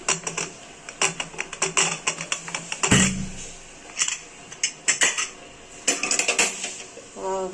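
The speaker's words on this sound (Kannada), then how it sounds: "ಲಿಡ್ನ ಓಪನ್ ಮಾಡ್ತೀನಿ" Metal clanks and clicks of a pressure cooker lid being handled and twisted open after the whistles, with one louder thump and a short hiss near the end.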